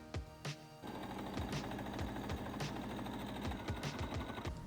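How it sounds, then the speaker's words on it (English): A sewing machine stitches around the edge of a pair of plush wings for a handmade Kero toy, running steadily and close up with repeated thumps from the needle, with no voices. "So here is one pair and I sew around that edge there."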